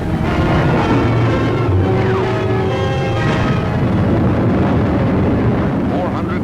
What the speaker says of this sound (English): 14 tons of bombs dropped.